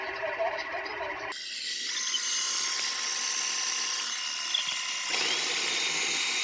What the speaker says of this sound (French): Allez, donc là, on va lancer l'auto-nettoyage.